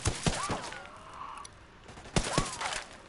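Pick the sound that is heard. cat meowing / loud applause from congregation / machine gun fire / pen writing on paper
machine gun fire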